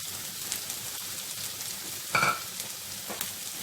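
Onions sizzling in a pan with chili, bay leaves, ginger, garlic cloves and black pepper for chicken adobo, a steady close frying crackle with a brief louder clatter of stirring midway and no talk.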